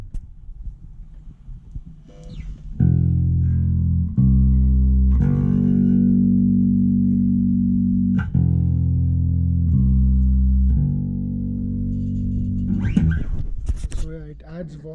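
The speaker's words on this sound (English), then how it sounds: "Yamaha bass. So yeah, sounds like this." A Yamaha TRBX174 electric bass plays sustained low notes that change pitch every second or two, loud and close with a warm tone. A short burst of speech and noise comes at the end.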